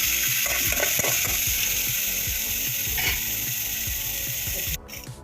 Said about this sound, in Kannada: ತುಪ್ಪ ಹಾಕಿದ್ಮೇಲೆ ಪನ್ನೀರನ್ನ ಸ್ವಲ್ಪ ಫ್ರೈ ಮಾಡ್ಕೊಳ್ಳೋಣ.